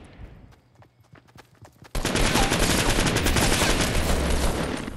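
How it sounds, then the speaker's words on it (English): A machine gun in Fortnite empties a full magazine in one long, loud, continuous burst of rapid fire that runs to the end, after a quieter stretch of sparse, distant shots. "some machine guns are garbage, as you can see. Fire the whole clip, miss most of the bullets."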